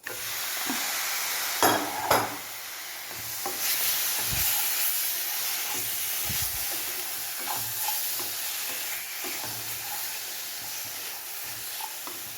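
Chicken pieces coated with turmeric and chilli powder frying and being stirred in a pan with hot spice powders, for a Kerala tapioca and chicken breakfast; a steady broadband sizzle with occasional scraping stirs and a few louder clatters early on.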